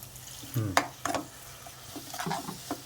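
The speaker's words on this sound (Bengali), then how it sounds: "এখন খুব ভালো করে এটাকে নাড়াচাড়া করে প্রথমে আরেকবার কষে নিতে হবে" Spiced masala for an egg curry sizzles in a pan while a spoon stirs it, giving a steady frying hiss broken by several sharp scraping strokes, close and moderately loud with no talking.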